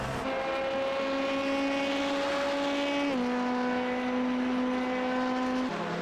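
Race cars at full speed on the Mulsanne straight at Le Mans in iRacing, a steady high engine whine holding pitch with an upshift dip, loud and close, no talk.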